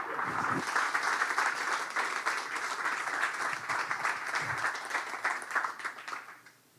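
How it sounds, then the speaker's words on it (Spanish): Sustained applause from a congregation at a church sermon, steady and full for several seconds before fading out at the end. "Dale un aplauso al Cristo resucitado."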